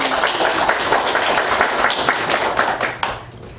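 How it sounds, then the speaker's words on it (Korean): Attendees at a redevelopment committee meeting clap together in a brisk, crowded burst of close applause that holds steady for a few seconds, then tapers off near the end. "오랜만에 뵀으니까 박수 한번 치겠습니다."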